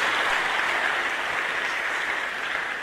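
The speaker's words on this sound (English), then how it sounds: "Can we give the Lord a good clap up for everybody?" A church congregation claps together in a dense, continuous wash of applause, loud and steady throughout without any speech over it.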